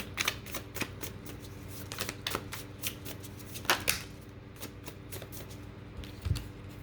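Tarot cards are shuffled and handled during a reading, with quick papery flicks and soft slaps coming in irregular bursts, close and fairly quiet, and no talk over them.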